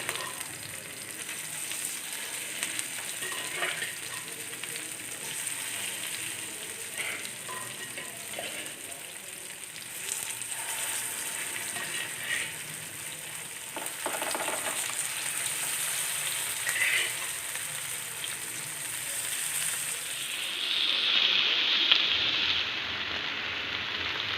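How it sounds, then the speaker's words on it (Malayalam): Fish sizzles steadily in hot oil in a pan, a continuous crackling hiss running throughout with occasional louder spatters and a brighter burst near the end, no talking. "ഈ കുറച്ച് വെച്ചാണ് നമ്മൾ ഫ്രൈ ചെയ്യാൻ പോകുന്നത്."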